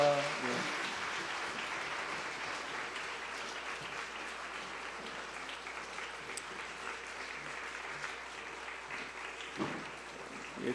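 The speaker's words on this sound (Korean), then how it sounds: "들어가실 때까지 좀 더 박수 칠까요?" A church congregation at a Christmas thanksgiving service claps continuously and fairly quietly for several seconds, with a steady wash of applause that swells briefly near the end.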